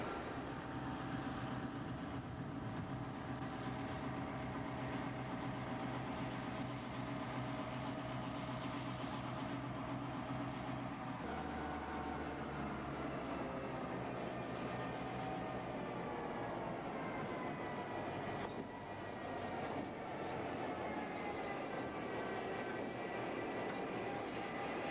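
A train pulls out of the old gantry sidings at Dundalk's Barracks Street yard, a faint, distant engine drone with a steady hum and rumble that shifts in pitch as it moves away.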